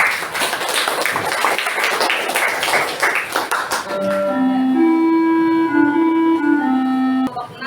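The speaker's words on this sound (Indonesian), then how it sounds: "beri tepuk tangan dulu" A group of students applauds in a classroom presentation session, brisk clapping for about four seconds that ends abruptly, followed by a sustained melodic tone.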